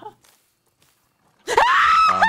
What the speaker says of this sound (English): The scream.